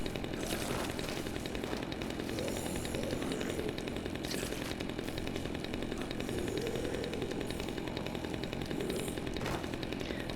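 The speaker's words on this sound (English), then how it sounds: "And hey, we even have a chainsaw to help us clear the way." Chainsaw in the video game Dead Rising 2, a loud, steady buzzing roar that runs unbroken through the whole stretch with a dense, gritty texture and no talking.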